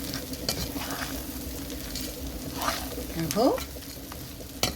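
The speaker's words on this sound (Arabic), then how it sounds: "بنقلب كل التوابل والبهارات الناشفه والبهارات المطحونه كله مع بعضه كده" A spoon stirs dry whole spices and ground spices together in a pot for mandi, scraping and rattling against the metal over a soft sizzle, with a brief spoken word at the start.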